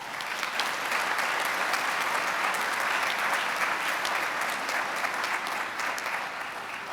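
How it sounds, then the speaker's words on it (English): Audience at a Blue Ridge Community College commencement ceremony applauds faculty and staff: dense, steady crowd clapping sustained at even loudness throughout, with no talk over it. "Let's show them our deepest appreciation with a big round of applause for our faculty and staff."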